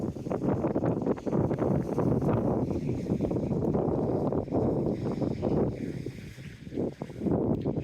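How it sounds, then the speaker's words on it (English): Strong wind buffets the microphone on a beach point overlooking the water, a steady loud roar with gusty surges throughout and no voices. "Wind included."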